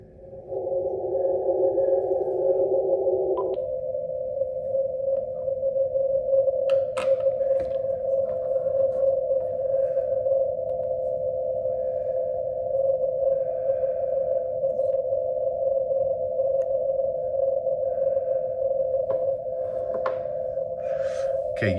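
A weak CW Morse beacon on 28.209 MHz comes through a radio receiver as a steady continuous tone over a hissy noise floor, with faint clicks and a brief higher tone at the start.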